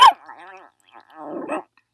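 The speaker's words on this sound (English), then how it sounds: "that's what happened, barking." A couple of short, sharp dog barks, the first loud and abrupt, followed by rougher yapping, close by with no talking.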